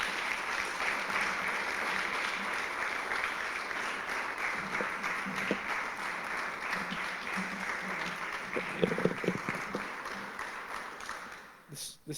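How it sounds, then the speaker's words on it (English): Audience applause at a service dog graduation ceremony, sustained clapping from a roomful of people that carries on for about eleven seconds with a few voices and murmurs mixed in before fading out. "How about everybody put a big round of applause for Sung?"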